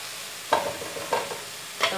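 Carrots sauté in a hot pan with a low, steady sizzle. Three distinct scraping stirs of a utensil break through at intervals, close and moderately quiet.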